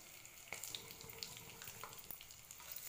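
Whole spices, cinnamon, cloves, peppercorns and bay leaf, fry in hot oil and ghee in a pan, giving a quiet, close, steady sizzle with scattered small pops and crackles.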